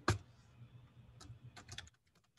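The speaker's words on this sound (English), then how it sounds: "typing in the wrong window." Typing on a computer keyboard, close and quiet: an opening keystroke, then a sparse run of clicks and a short quick burst before it stops.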